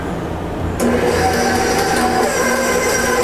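A stand mixer running at low speed as it kneads pizza dough, a steady mechanical whir and hum that switches on partway through and then continues loud and unbroken.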